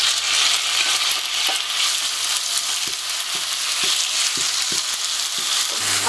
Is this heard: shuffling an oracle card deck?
no